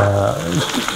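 Chili and onion hitting hot oil in a pan for sausage fried rice, giving a loud, close, steady sizzle with a low rumble underneath, brief and continuous.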